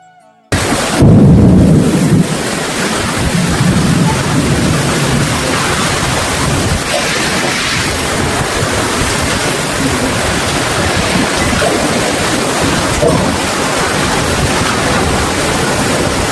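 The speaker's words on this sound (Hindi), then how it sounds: "हम लोग के घर में पूरा आंधी तूफान भयंकर आंधी" Fierce storm winds with heavy rain lash a house, a dense steady roar that begins abruptly and holds loud and unbroken throughout, with no voices over it.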